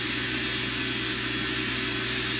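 The spindle of a Walter Helitronic Mini Power CNC tool cutter grinder runs with a steady, even whine and hum at constant speed, close by, with no other sounds.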